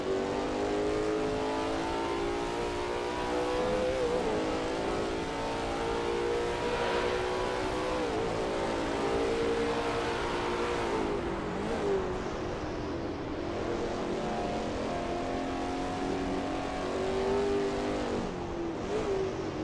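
A Lola T70 MkII Spyder race car in a racing video game howls around Watkins Glen, the engine revving up and down through gear changes, loud and continuous, with brief tire squeal.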